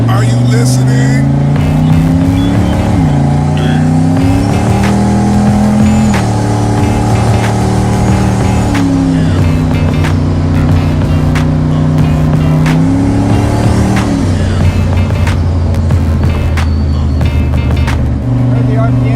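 Turbocharged 1965 Pontiac Tempest with an LS engine swap accelerating at part throttle, loud and close, its engine note climbing and dropping in repeated stepped gear pulls while the revs flutter, with a steady rush of road and wind noise throughout.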